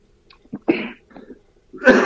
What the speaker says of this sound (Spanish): Caramba, que tos.